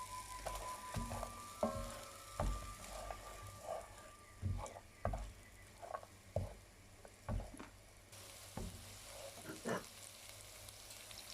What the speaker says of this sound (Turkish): Isıttığımız yağımıza bir tane soğanımızı ilave ediyoruz tenceremize arkadaşlar.